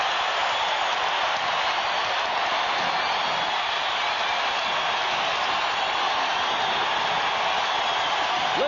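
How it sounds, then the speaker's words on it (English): A basketball crowd roars in the Delta Center during Game 1 of the 1998 NBA Finals between the Bulls and Jazz, a dense, steady wash of cheering and applause filling the arena without a break. "Listen to this crowd at the Delta Center"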